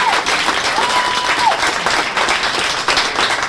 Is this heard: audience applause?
yes